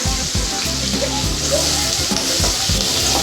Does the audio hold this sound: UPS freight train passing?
no